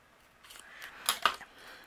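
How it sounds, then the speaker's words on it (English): Scissors snipping through paper card while making a friendship card, a few faint, crisp cuts close together in a quiet room. "I am going to use my scissors and cut along that line until I get to his hand."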